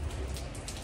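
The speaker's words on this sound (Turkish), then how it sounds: "Yağmur yağıyor." Steady rain falls outside a street-corner café in Sarajevo, a dense continuous hiss of drops on hard surfaces with no talk over it.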